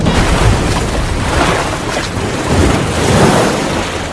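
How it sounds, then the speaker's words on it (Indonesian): Ocean waves crash and roar loudly and continuously in a film as a stranded plane-crash survivor paddles out past the breakers, with heavy surges rising and falling. "Satu persatu ombak pun berhasil dilewatinya"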